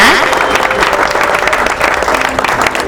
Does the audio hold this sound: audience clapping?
yes